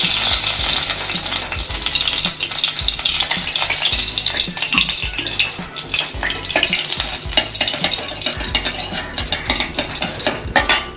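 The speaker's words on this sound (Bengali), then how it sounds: "তেলটা গরম হয়ে গেলে এর মধ্যে একটু ঘি দিচ্ছি।" Ghee added to hot white cooking oil in a pan fries with a loud, dense, close sizzle and crackle that carries on steadily, with occasional utensil clinks against the pan and no talking.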